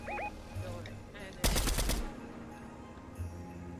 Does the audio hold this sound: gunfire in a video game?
yes